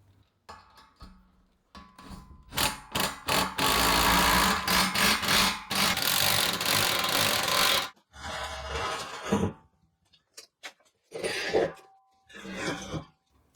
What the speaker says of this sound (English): Got tired of the ratchet and decided to use the impact gun.